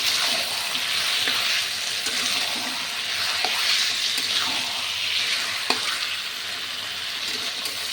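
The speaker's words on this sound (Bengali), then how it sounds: "চিকেন কষা হচ্ছে" Chicken being sautéed in a pan, giving a loud continuous hiss of frying with occasional spatula scrapes and taps, close by.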